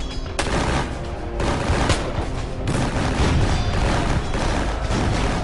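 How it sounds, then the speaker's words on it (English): Cannon and gunfire in a War of 1812 battle, a dense, loud continuous barrage of overlapping shots and booms with a few sharper blasts standing out. "The roar of the cannon followed, pouring a perfect shower of grape and round shot into the camp."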